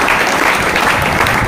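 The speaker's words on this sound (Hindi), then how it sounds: "आप जोर से ताली बजा के सभी का आप स्वागत" An audience claps loudly and continuously at a tournament prize distribution ceremony, a dense, even wash of applause with no break.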